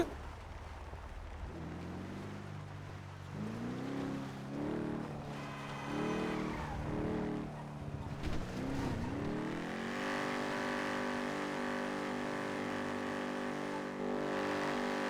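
Car engine from the NoPixel GTA video game, revving and accelerating through several gear changes with a sustained mid-pitched roar, fairly faint under game audio.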